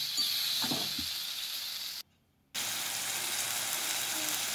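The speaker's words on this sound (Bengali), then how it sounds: "ভালো করে কষাবো, লো টু মিডিয়াম আঁচে রান্নাটা হবে।" Chicken pieces, about 500 grams, sautéing for kosha in a pan over low-medium heat, giving a steady broadband sizzle that cuts out briefly around the middle and then resumes, with no talk.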